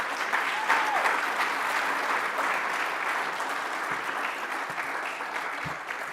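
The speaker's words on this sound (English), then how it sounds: "Can we please just give her another round of applause?" An audience at a university dentistry faculty's inaugural lecture applauds steadily for about six seconds, a dense wash of many hands clapping at even loudness from start to finish.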